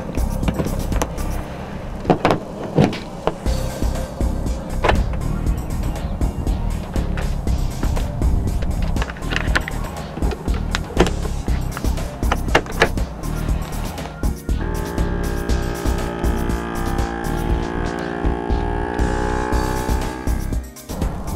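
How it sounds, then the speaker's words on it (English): A GameSaver Silver G 500 vacuum sealer drones continuously as it pumps the air out of a bag of fish, then shifts to a steadier tonal hum as it seals. "We vacuumed all the air out of there. Right now it's sealing."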